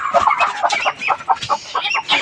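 A hen clucks repeatedly at close range among native country chickens, in a busy, continuous run of short calls with no talking over it.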